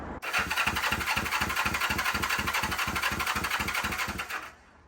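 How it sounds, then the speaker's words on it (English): A 1974 Honda CB450 motorcycle engine turns over on the starter, its cranking pulsing loud and steady in an even rhythm for about four seconds before stopping. "I'm going to turn it over a couple of times to get oil pressure up, and then we'll crank on it."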